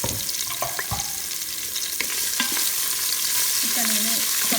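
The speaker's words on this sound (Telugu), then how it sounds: "తర్వాత onion and green chilli add చేసుకున్నానండి." Onion and green chillies frying in a pot for chicken dum biryani, a steady close sizzle with scattered pops and occasional clinks of a stirring spoon, no voices.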